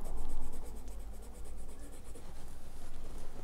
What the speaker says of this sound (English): you can color this in just with a gray marker, pencil, crayon, or crayon, whatever coloring supply you're using